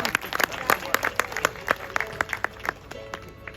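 Scattered hand claps from a crowd at an outdoor mela, crisp individual claps in uneven rhythm under a speaking voice, moderately close and not very loud.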